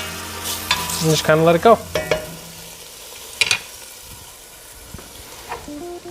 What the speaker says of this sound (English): in the background the pork going